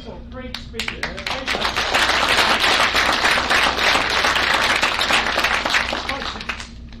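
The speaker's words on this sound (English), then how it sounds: "I'd like to ask everybody to do a round of applause." Audience applause at a recycling symposium, a dense burst of many hands clapping that swells quickly, holds steady and loud for several seconds, then thins out near the end.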